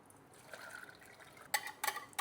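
Hot simple syrup of sugar and water is poured from a container back into a pot for pastel de nata custard, with a faint trickle that ends in two short, louder splashy pours near the end.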